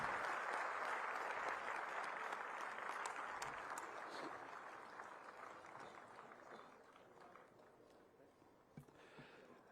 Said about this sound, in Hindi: तो अब आपकी तालियों की आवाज, उसकी गूंज आनी चाहिए देवियों सज्जनों।